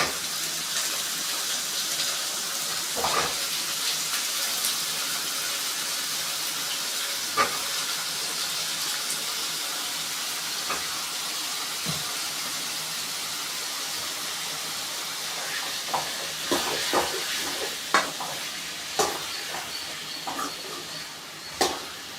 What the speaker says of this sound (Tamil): இப்போ நல்லா வதக்கிக்கோங்க.